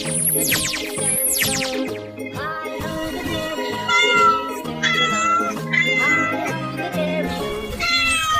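A cartoon cat meows repeatedly in a busy animated scene, loud and close, with overlapping bright calls over a layered musical backing and no talking.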